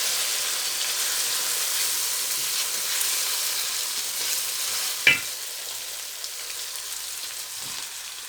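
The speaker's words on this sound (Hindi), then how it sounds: "अब इनको भूनेंगे मसाले में 1-2 मिनट भून के" Potatoes and eggplant fry in masala in a pan for dry aloo baingan sabzi, with a steady close sizzle throughout and one sharp utensil clank partway through.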